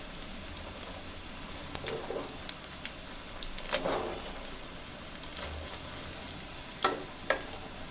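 Water lily flower fritters frying in a pan of oil, a soft continuous sizzle with a few brief louder crackles and pops, no voices.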